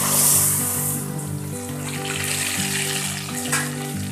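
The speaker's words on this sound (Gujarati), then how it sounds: "હવે આપણે કુરિયાની અંદર તેલ રેડીશું." Hot oil pours into a bowl of fenugreek pickle mix for a green chilli pickle, giving a steady close sizzle and trickle that runs throughout with a brief surge near the end, under a low steady hum.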